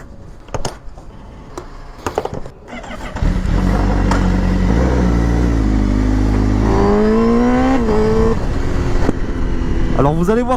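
A motorcycle engine starts after a few clicks and knocks, idles with a loud steady rumble, then revs up through rising gear pulls as the bike rides off, ending with another sharp rev up close.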